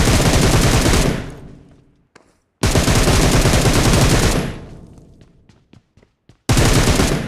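Video game gunfire in loud sustained bursts, one about a second long, a second lasting nearly two seconds, and a third starting at the end, with a few sharp single shots and brief quiet gaps between them.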